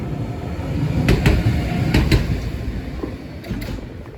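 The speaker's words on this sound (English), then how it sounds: "That's the tram that got me here." A tram rumbles past at close range, a steady low mechanical roar with repeated metallic clacks and squeals as it moves along the rails.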